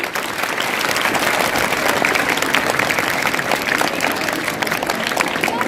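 Sustained audience applause fills a school annual function hall, dense steady clapping from a large crowd holding an even level throughout.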